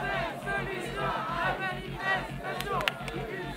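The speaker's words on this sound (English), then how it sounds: "All of this screaming is actually just a binaural recording." A binaural recording of a crowd screaming and shouting during a documentary theatre lecture, heard as a dense, steady wall of many overlapping voices with rhythmic low thumping underneath, loud and continuous throughout.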